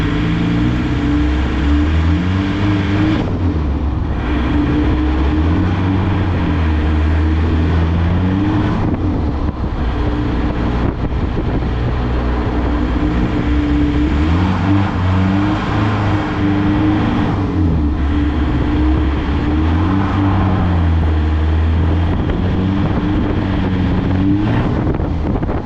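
A Toyota pickup with a swapped-in TDI diesel engine drives in two-wheel drive on pure ice, its low steady engine drone rising and falling through the gears over constant wind rush and road rumble.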